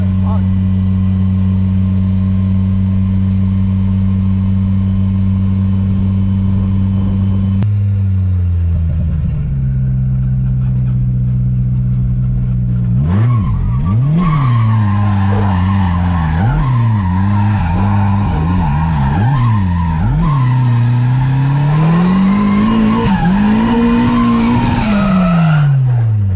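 A stock turbo Miata running E85 at 17 psi revs hard while driving, its engine note rising and falling in sweeping pitch bends, loud and close, with some tire noise and voices talking over it.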